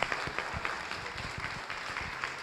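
An audience applauds at a talk, a steady wash of many hands clapping at moderate loudness with no voices over it.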